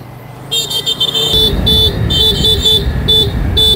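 Road vehicle noise from a passing truck on a road during a mountain bike race in Infanta, Pangasinan, with loud rumbling engine and repeated beeping horn or alarm tones in a steady pattern, close by.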